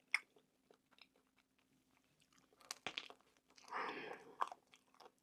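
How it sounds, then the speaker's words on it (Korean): Crunchy chocolate coating on a Tico ice cream bar with salted butter bread crackles as it is bitten and chewed, close and fairly quiet, with a louder crunching burst near the end. "거기에 바삭바삭 씹히는 초코."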